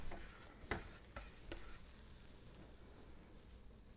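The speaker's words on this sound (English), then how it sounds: "We're just going to fry up these eggs, nothing spectacular." Eggs fry in a tablespoon of butter in a pan with a faint, continuous crackling hiss, broken by a few light taps early on.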